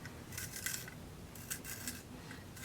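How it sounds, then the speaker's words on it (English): A pencil sharpener works a colored pencil, giving soft, close scraping and whirring in two short bursts separated by a pause, quiet and alone. "so let's try out the sharpener, huh?"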